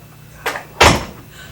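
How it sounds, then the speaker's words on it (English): A door is pushed shut indoors, giving a light knock followed a moment later by a louder, sharp thud as it closes, with no talk over it. "Shut the door, Daisy, please."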